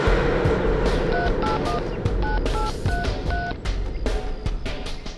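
A phone is dialed over a loud, steady roar of street traffic, and a run of short electronic keypad tones steps through different pitches in quick succession.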